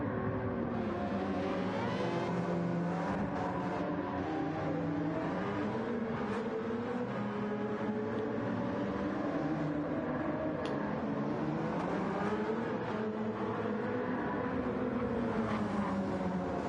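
Race cars roaring around the track in Gran Turismo 7, a continuous dense engine drone with shifting pitch as several cars race together, loud and unbroken throughout.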